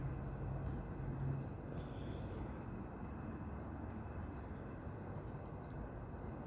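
Airplane flying over a residential street at night, a faint steady distant engine drone filling the air with no voices.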